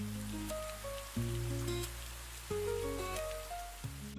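Steady rain patters on a surface in a continuous wash, joined by soft musical tones that change every second or so, with no voices.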